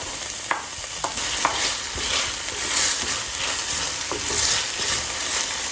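Onions sizzling steadily in a pan where chicken livers were cooked for a spicy dinner, with a spoon stirring and scraping in occasional clicks against the metal, close and continuous with no talking.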